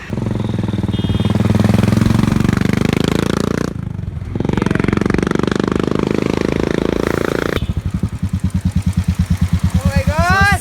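Royal Enfield Continental GT motorcycle engine in Ahmedabad, loud and close, with a heavy rumbling drone that cuts out briefly, returns, then settles into a rapid thumping idle-like pulse under excited voices.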